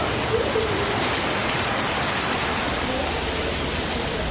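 Heavy rain pouring over hill villages around Kodaikanal, a dense, loud, unbroken roar of downpour close by, with no voices.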